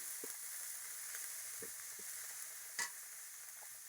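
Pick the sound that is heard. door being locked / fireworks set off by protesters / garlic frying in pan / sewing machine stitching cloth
garlic frying in pan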